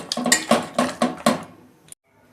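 A metal kadai clanks onto the stove in a few sharp knocks, followed by a short soft pour of oil, in a home kitchen while cooking a lote fish recipe.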